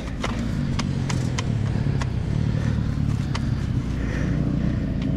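A 125cc two-stroke dirt bike engine drones steadily and close for the whole stretch, with a constant low buzzing note and a few sharp ticks and clatters over it while the bike is ridden.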